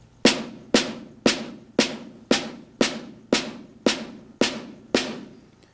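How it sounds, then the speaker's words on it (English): Snare drum unaccented notes struck with the stick tip about half an inch above the head, ten soft, evenly spaced crisp hits with short ringing decays, close and alone. "snare unaccented notes are going to sound like this"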